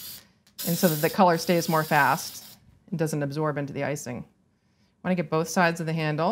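Short hissing bursts of food color spray onto cookie pieces alternate with close speech, three spritzes in a row, each sharp and bright.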